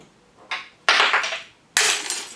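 Glass Christmas ornament balls dropped and shattering: a soft clatter followed by two loud, bright crashes of breaking glass about a second apart, close by with no talking.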